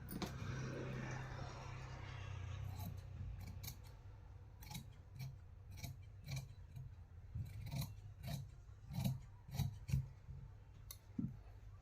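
Scissors cut through blouse fabric at the shoulder while a four-tuck blouse is being made, giving a series of crisp snips that start sparse and quicken into a steady run near the end over a faint low hum.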